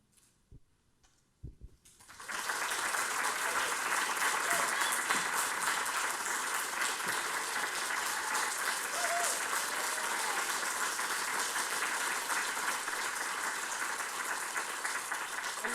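An audience at a retirement program bursts into loud, sustained applause after a couple of seconds of near silence, and the clapping holds steady to the end.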